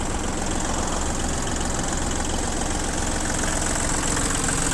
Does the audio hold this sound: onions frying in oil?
no